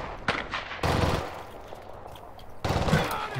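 Video game gunfire, two loud close bursts of shots separated by a quieter stretch of distant battle noise, with faint crackling in between.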